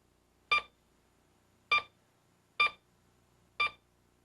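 A Pioneer 202 metal detector gives four short, bright electronic beeps, evenly spaced about a second apart, as a quarter passes its coil; close and clear over near silence.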